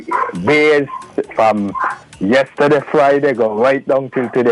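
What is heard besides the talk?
dog barking in the background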